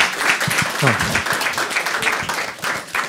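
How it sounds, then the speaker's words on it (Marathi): An audience at a stand-up comedy show claps and applauds in a brisk, crowded burst, with a voice talking over the clapping. "हो टाळ्या वाजवा एकदा याच्यासाठी"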